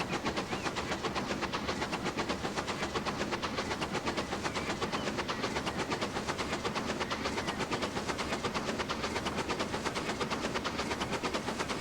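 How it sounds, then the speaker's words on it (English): The fastest train in the video game Transport Fever 2 runs on rails, a loud, steady rushing rumble with a fast, regular clickety-clack pulse throughout and no voices. "this is the fastest train we have."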